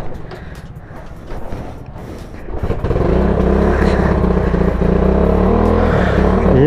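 Very old motorcycle kick-started and coming to life, with a carburetor needing adjustment: a rough, uneven start builds into a loud, steady close engine idle and revving that holds to the end.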